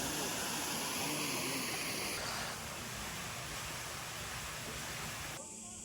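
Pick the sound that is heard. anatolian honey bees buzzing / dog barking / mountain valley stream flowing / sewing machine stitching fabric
mountain valley stream flowing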